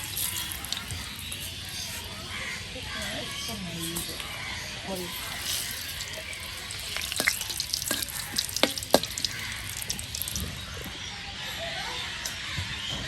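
Vegetables and hilsa fish fry in oil with bay leaf, a constant loud sizzle running throughout, with a few sharp clinks midway and someone speaking over it in places.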